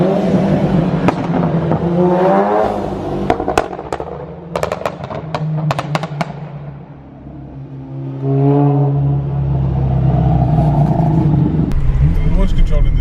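Loud 420bhp Seat Leon Cupra engine revving and roaring up close with sharp crackles and pops from the exhaust, while people talk over it.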